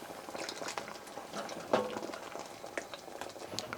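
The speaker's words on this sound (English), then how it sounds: "We've got it boiling, so we're going to turn this down a little bit to let it simmer" Beef broth and Guinness boil in a pot, a soft, continuous bubbling and gurgling heard close up with no talking.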